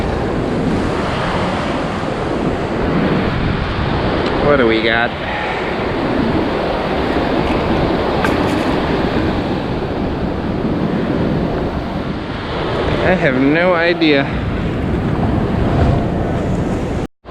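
Ocean waves wash onto the beach at Ocean Beach, San Diego, a loud continuous surf rush with wind buffeting the microphone. A person briefly speaks over it, and a metal detector gives two warbling tones.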